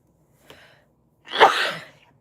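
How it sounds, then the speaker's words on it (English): A single person's sneeze, preceded by a faint sharp intake of breath, then one loud explosive burst lasting about a second, close by with no talk over it. "I got to sneeze."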